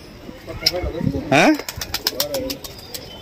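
Pigeons coo and call close by, with brief fluttering and a voice talking over part of it.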